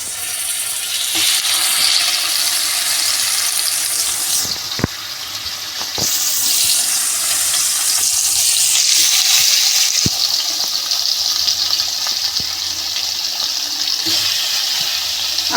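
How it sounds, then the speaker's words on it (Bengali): Chicken pieces marinated in salt, Kashmiri red chilli powder and turmeric fry in hot oil, giving a loud, continuous sizzling hiss with a few sharp clicks and spatters, and no talking. "এবার এক একটা করে ভাজা বসাবো"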